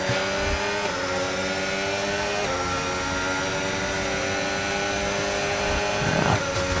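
A Formula 1 car in the F1 25 racing game, its engine screaming at high revs in a continuous loud whine with gear shifts shifting the pitch, close and without talk.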